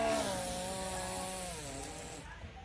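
A voice imitates a motorbike passing by, a steady buzzing drone with rising and falling harmonic pitch that holds for about two seconds, then cuts off abruptly.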